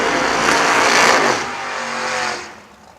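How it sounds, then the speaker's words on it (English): A Camaro drag race car rolls into the burnout box at the strip, its engine roaring loud and close for about two seconds before the sound drops and fades away. "Here's Sean Pitts, brings that Camaro in at 660 out of London, Ohio."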